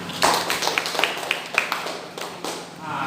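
Classroom clapping after a correct maths answer, a scattered run of hand claps of moderate loudness, with some voices underneath.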